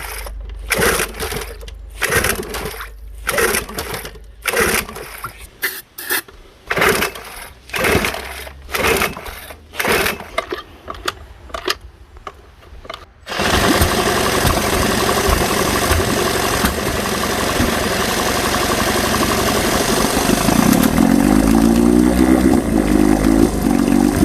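A 1971 Johnson Evinrude 9.5 hp outboard motor is pull-started with a series of loud, rough clattering strokes, then catches and settles into a continuous, loud running drone.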